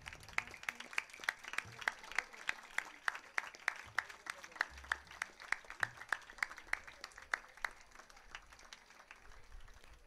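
An audience at a school sports day claps steadily in a fairly faint, even round of applause lasting several seconds.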